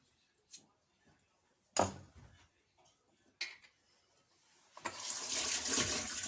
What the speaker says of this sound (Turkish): Sarımsaklarımı yıkadım.